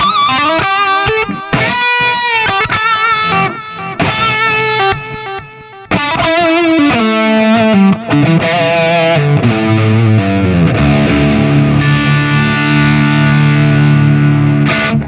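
Heavily distorted electric guitar on the bridge humbucker through a Brainworx RockRack amp plugin, chugging palm-muted riffs with short choppy bursts that give way to sustained ringing chords, loud and up front.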